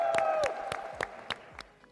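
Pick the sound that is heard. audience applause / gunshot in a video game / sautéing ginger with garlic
audience applause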